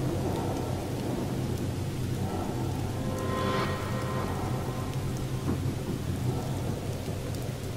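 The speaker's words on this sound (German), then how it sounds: "Ich kann mich entsinnen, dass es vorhin noch nicht geregnet hat." Steady rain pours in The Evil Within, a constant dense hiss with low rumbling thunder beneath it, filling the whole stretch with no voices.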